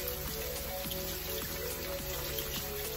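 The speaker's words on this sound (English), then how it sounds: "Easy way to rinse your beans." Tap water runs steadily over canned beans in a colander, a continuous close splashing patter with a faint high hiss and a low appliance-like hum underneath, no voices.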